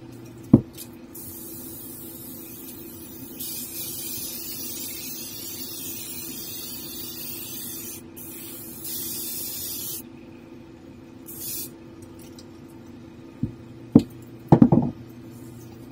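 A paint spray gun hisses in long, steady bursts while painting a 1/4-scale Narin Hellboys helmet, the airflow broad and continuous with brief pauses between passes, followed by a few short clicks and knocks near the end.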